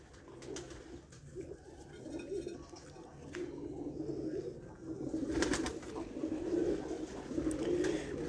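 Breeder pigeons cooing on a rooftop, a continuous layered murmur of low coos that gradually swells, with no talking.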